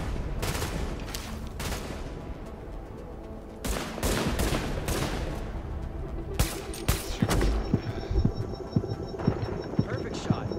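Gunfire in a PS4 shooter game, with bursts of shots and broadband volleys scattered through the clip, followed by sharp rapid cracks near the end over a steady background hum, with voices talking underneath.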